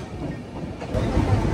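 Flying Ranee Express pulling out of Bilimora Junction toward Valsad after rain, giving a brief, steady rolling rumble that swells louder partway through.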